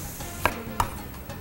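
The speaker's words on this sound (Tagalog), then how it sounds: "Hiwain na natin ang ating sibuyas." Onion being chopped with a knife on a board in a kitchen while cooking calamares, two crisp distinct knife strikes followed by a softer third, close and quiet with no talk.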